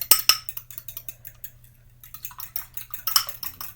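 Eggs whisked with Cajun seasoning in a bowl, quick bursts of utensil clinks and scraping against the bowl, with a brief lull before the rapid tapping resumes, close and alone.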